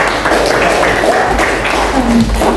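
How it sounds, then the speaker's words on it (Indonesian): A classroom of students claps for their classmates after a group discussion, a fairly close, scattered patter of hands that runs steadily, with a brief voice or two underneath. "tepuk tangan buat kepada kalian"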